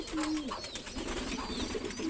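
Pigeons cooing close by, soft throaty coos repeating over a quiet background.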